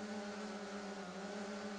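A drone's steady, droning motor and propeller hum is picked up by its own onboard microphone, a constant tonal whine with no breaks and no voices.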